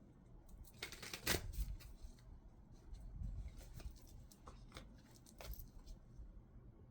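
Soft papery rustles and quick flicks as a Beyond Lemuria oracle card deck is shuffled, faint and close, in short uneven bursts.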